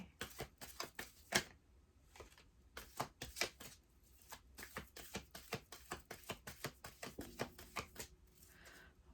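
Deck of angel oracle cards being shuffled by hand, a quick series of crisp riffling slaps close up in a quiet room, with no talk.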